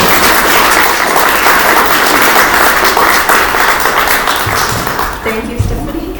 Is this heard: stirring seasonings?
no